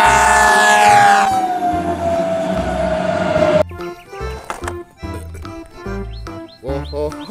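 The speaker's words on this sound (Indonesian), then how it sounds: "lihat teman-teman, di sini ada mobil pemadam kebakaran" A toy fire truck plays a wailing electronic siren tone, loud and close, followed by a choppy run of bright beeping jingle notes from the toy's sound chip.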